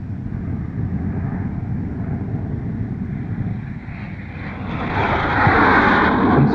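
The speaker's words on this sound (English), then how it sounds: "steer down the runway, first nose wheel steer, then rudder. Lift nose wheel at just the proper speed to fly off in the least ground roll." A North American F-107 jet rolls down a runway for takeoff, its broad engine roar steady and close, then swelling louder and brighter toward the end as it accelerates.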